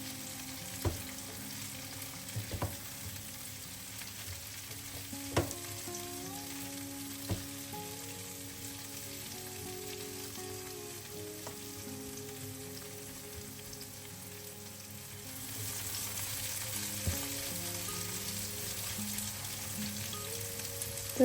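Peppers added to onions already frying in oil sizzle steadily in a pan for Albanian chicken casserole, with occasional sharp clicks and scrapes of stirring and a slightly louder, denser sizzle near the end; no one speaks.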